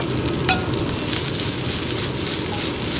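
Food fries in hot oil in a wok with ginger and scallion, producing a steady, close crackling sizzle with a few sharper pops.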